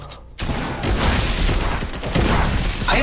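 Rapid bursts of gunfire crackle in a shooter video game, a dense volley starting abruptly after a brief quiet moment and continuing loud and steady to the end.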